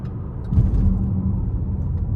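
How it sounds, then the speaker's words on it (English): A 2026 Chevy Blazer 2LT with the 2.0T engine accelerating, heard from inside the cabin. A low engine rumble swells about halfway through and holds steady. "I'm gonna give it a little something and see how it accelerates"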